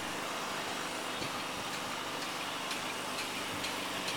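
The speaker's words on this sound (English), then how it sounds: "You get the fan blowing, wind blowing, someone pounding, someone cutting their grass." Steady outdoor background noise at a junk and antiques yard: a blowing fan and wind make a constant wash, with light irregular knocks like distant pounding and the low drone of a faraway lawn mower.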